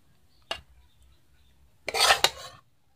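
Dry egg curry scraped and served from a pan onto a plate in a home kitchen, a short metallic tap followed by a louder scraping, clattering burst of a spoon against the vessel, nearby and without talk.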